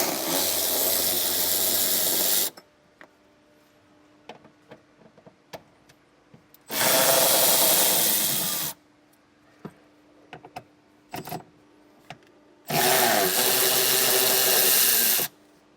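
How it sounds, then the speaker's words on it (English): A power driver fitted with a 10mm socket backs out three screws on a 2020 vehicle, giving three loud whirring bursts of about two seconds each, separated by quiet gaps with faint clicks and handling noises. "we're going to take our 10mm socket, and there's going to be 3 screws"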